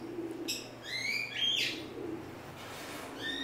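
Pigeons in a breeding loft and aviary, just fed and watered with young squabs nearby, give soft low coos alongside several sharper bird chirps scattered through the moment, close and moderately quiet, with no talking.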